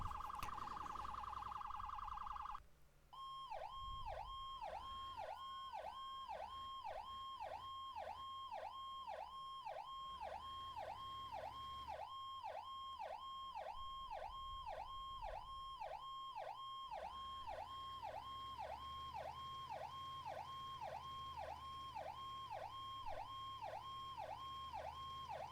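A fire engine siren in the firefighting video game Into the Flames wails in a fast, steady up-and-down yelp that repeats continuously and loudly for over twenty seconds, following a brief electronic tone at the start, with no talking.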